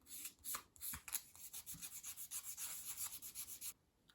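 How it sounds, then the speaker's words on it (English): Sandpaper rubbed back and forth on a wooden edge of a dolls house piece, a quiet close rhythmic scratching of around a dozen quick strokes, alone. "bring in your sandpaper and tidy up that edge"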